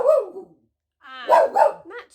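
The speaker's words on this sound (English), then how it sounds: "She was barking at something out the window." A pet dog barks indoors at something out the window: one short bark, a pause, then a quick run of two or three barks, close and fairly loud with no talk.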